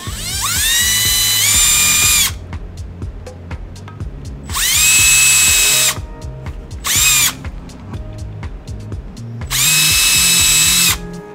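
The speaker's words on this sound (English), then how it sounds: "I put my brass tube on the end of a drill." An electric drill spinning a brass tube to punch holes whirs in four separate bursts, the motor pitch rising as each starts, with short quiet gaps and faint clatter between them.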